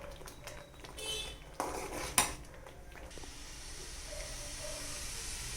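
Semolina upma being stirred in a pan on the stove, a spoon scraping and clinking against the metal several times over a low steady hiss, with a louder clatter near the middle.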